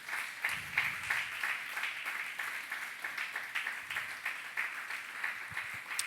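Church congregation applauding together during a service, a steady dense patter of many hands clapping that carries through the whole stretch without talk.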